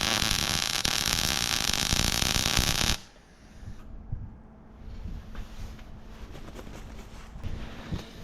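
A hitch mounting plate is welded onto a trailer. A loud, steady crackling buzz runs for about three seconds, then cuts off, leaving a quieter background hum.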